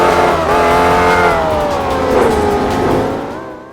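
A simulated racing car engine in the Amazing Curves Racing game, a single sample designed to rev toward 12,000 RPM with a Formula One-like tone, whines loudly and steadily, its pitch climbing, dipping and climbing again before fading out.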